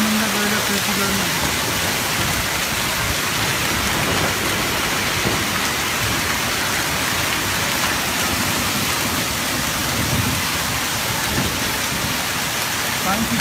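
Dense, loud hail hisses and rattles continuously on surfaces in a village, a steady roaring wash with a voice faintly underneath at the start.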